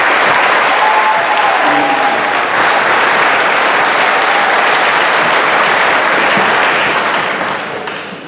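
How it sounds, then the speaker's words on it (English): Loud, sustained applause from a big crowd at a high school graduation, dense clapping with occasional cheers that holds steady before fading out near the end. "One last round of applause for these amazing accomplishments."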